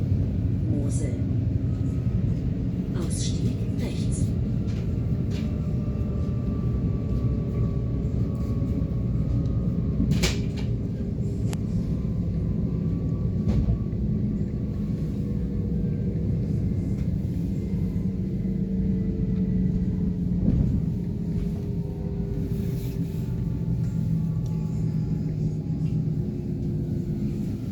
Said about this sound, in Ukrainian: Це потяг, електричка.